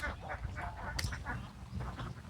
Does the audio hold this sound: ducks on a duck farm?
yes